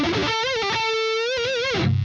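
Distorted electric guitar with effects plays a fast alternate-picked pentatonic lick with chromatic passing tones in a heavy style, sliding and bending notes under steady loud sustain, no voices.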